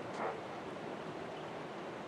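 Sorgun creek, swollen with slowly melting snow, flows in a steady, even rush of water throughout.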